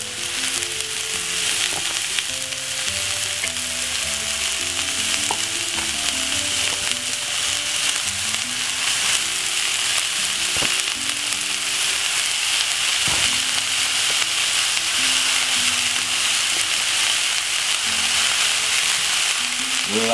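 Mince frying in a pan and stirred, a loud continuous sizzle close up, with occasional scrapes and clinks of stirring and a faint tonal hum beneath.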